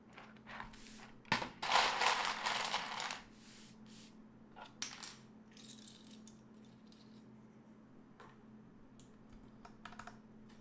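Keycaps are pressed onto a KBD75v2 mechanical keyboard fitted with White Revo linear switches, a cluster of close plastic clicks and rattles early on, then sparse faint taps against a quiet hum.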